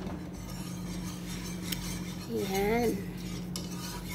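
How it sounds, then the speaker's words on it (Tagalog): A spoon scrapes and stirs through a cornstarch mixture in a pot, quiet and close, with a brief louder swirl midway and a single short spoken word. "ihalo na natin, ihalo ng halo"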